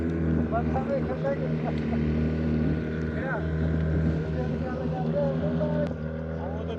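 Motorboat engine drone carrying a boat through floodwater in flooded Punjab villages, a steady close rumble throughout with voices talking over it.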